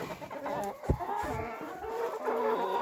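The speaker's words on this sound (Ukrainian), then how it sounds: "У нас тут є кури." Several chickens cluck and squawk close by, with irregular short calls over a steady farmyard background.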